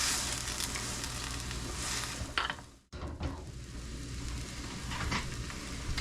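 Sauce with Red Hot hot sauce sautéing in a pan for stuffed venison backstrap gives a continuous close sizzle, with a brief clatter and a short dip to near silence midway before the frying resumes.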